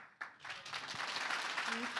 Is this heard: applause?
yes